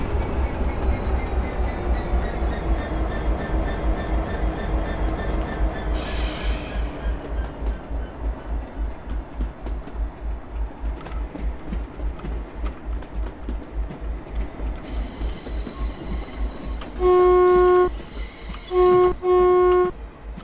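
A DB Cargo freight train in a train simulator game rolls slowly with steady rhythmic wheel clatter and engine rumble, then several loud horn blasts sound near the end, with no talking.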